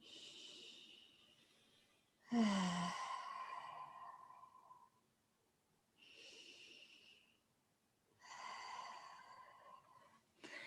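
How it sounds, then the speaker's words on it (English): Slow, deep breaths drawn in and let out during a guided forward-fold relaxation exercise, three long airy swells separated by quiet pauses, close and clear with no talking. "just take a couple of breaths there"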